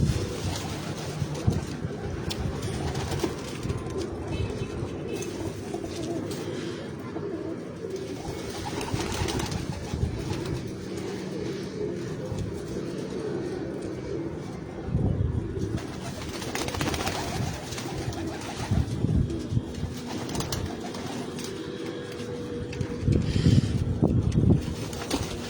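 Sialkoti pigeons, a mix of fine show breeds kept on a rooftop, coo in soft repeated murmurs against a steady ambient background, with no talk over them.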